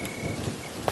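A storm sound effect for a Hindi story of a stormy rainy night: steady hissing rain with a low thunder rumble, and a brief drop-like tap near the end, with no voices.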